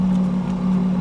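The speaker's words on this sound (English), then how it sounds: "As I rev the engine a little bit" A steady, loud Lotus Exige sports car engine drone with a low hum, rising slightly as it is revved, heard close up with no talking.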